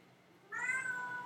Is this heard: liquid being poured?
no